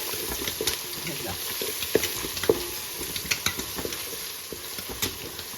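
Spices sizzling in oil in a pan for prawn biryani, a steady close crackle with scattered pops and a few stirring scrapes, moderate in level.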